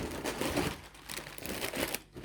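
Plastic shopping bags rustle and crinkle continuously while groceries are unpacked, a close, steady crackling texture with brief dips, and no talk.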